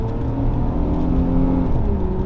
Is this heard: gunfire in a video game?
no